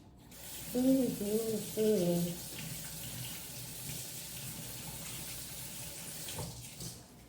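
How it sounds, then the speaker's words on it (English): Tap water runs into a kitchen sink while hands are rinsed of raw egg, a steady close splash with a squeaky faucet turn at the start and a clunk as it shuts off. "Wash my hands a little bit from the egg."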